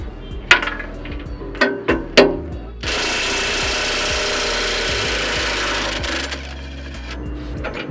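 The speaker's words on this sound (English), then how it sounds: "applying pressure to the back of the bolt while taking the nut off" Metal tool work on an excavator bucket tooth bolt: a few sharp clanks and knocks, then a loud, continuous buzzing rattle, like a powered wrench running the nut off, which cuts out abruptly near the end.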